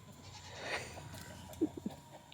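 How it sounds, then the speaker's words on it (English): A young male goat gives a short bleat partway through, fairly close, over a low background of farmyard noise with a few soft thumps. "he's a boy goat"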